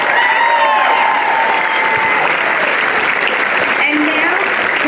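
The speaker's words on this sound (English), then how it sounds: "Can we please have another round of applause for Southern United?" Crowd at an under-14 girls' football grand final applauds Southern United, a loud continuous wash of clapping with scattered cheers and voices, steady from start to finish.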